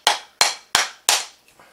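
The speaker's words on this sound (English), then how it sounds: "I'm just going to grab my hammer quickly." A hammer knocks an axe handle out of the axe head's eye, four sharp metallic strikes in quick even rhythm, close and loud, followed by a faint fifth tap.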